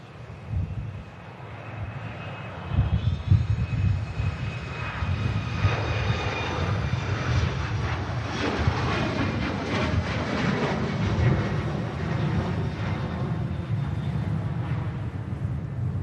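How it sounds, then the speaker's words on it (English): A TAP Air Portugal airliner departs Manchester Airport for Lisbon, its jet engines giving a loud, sustained roar that swells and holds steady throughout, with no talking. "TAP Air Portugal's going to depart now."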